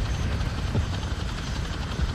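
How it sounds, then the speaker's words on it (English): Helicopter in the video game Modern Warfare 2, a steady low rotor and engine rumble filling the whole moment at moderate loudness, with no voices over it. "I'm in a helicopter"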